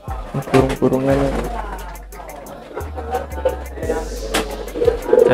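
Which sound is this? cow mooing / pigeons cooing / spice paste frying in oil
pigeons cooing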